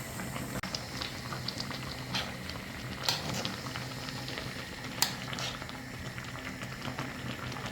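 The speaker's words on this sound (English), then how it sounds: "I'm going to wait and let it boil until the sauce gets thicker than this." Tteokbokki sauce bubbling in a pan, a steady low simmer with scattered pops and occasional louder clicks, close and fairly quiet with no talking.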